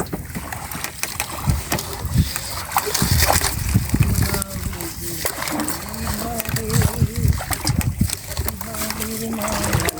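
Fish tipped out of a bag into a boat on a border river between India and Bangladesh, with wet splashes and sloshing thumps close by under continuous talk.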